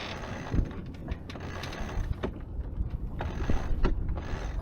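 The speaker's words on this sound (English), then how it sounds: "So the furling line, Mike, is allowing the sail to unroll" Furling line running through pulleys as a sail unrolls aboard a sailboat off Lagos, Portugal: soft mechanical clicks and rattling ticks at an irregular pace over steady wind and water noise.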